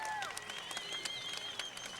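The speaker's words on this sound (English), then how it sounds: "Also, please, a round of applause for the challenger, an awesome challenger, Ben Yelle." Faint, distant crowd applause for the challenger after a fight, with scattered claps and thin whistles running throughout the two seconds.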